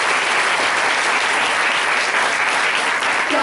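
Dense, loud clapping from a college audience in a hall, continuous and even for the whole stretch, a crowd applauding district collectors.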